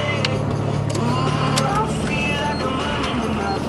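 Cars revving and idling on a night street during informal drag racing, a steady engine rumble with brief rises, heard close with people chatting over it.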